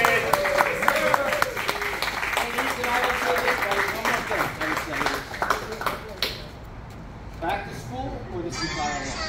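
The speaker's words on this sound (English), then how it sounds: "Everybody, round of applause." Applause at an awards ceremony, a dense burst of clapping from the audience with voices mixed in, fading to scattered claps and chatter.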